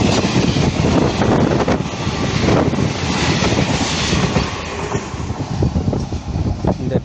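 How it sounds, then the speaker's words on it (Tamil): Passenger train from Tiruchirappalli to Mayiladuthurai rolling past on a single track near a closed rural station, a loud sustained rumble with rhythmic clickety-clack of wheels and wind buffeting the microphone throughout. "இந்த ட்ரெயின் திருச்சியிலேருந்து மயிலாடுதுறை போகக்கூடிய பேசஞ்சர் ட்ரெயின் இது."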